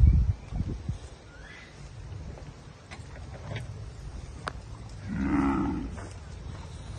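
A half-blood heifer, daughter of a Gyr bull and a Brown Swiss cow, on a farm in El Salvador gives one low, drawn-out moo near the end. Faint outdoor rustling and ambient noise surround it.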